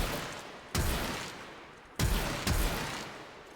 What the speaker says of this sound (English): You aim, you shoot, and it shoots explosive rounds, as you can see here.